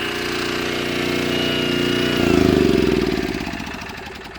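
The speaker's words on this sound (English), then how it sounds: "So there she is, the 1400 watt Craftsman generator with power output." A 1400 watt Craftsman generator runs close by with a steady, buzzing engine drone that swells briefly and then settles, with no speech over it.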